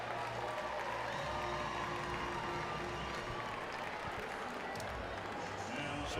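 A baseball crowd at an LSU game roars and cheers after a hit, a dense, sustained wall of noise at steady loudness, with a voice underneath.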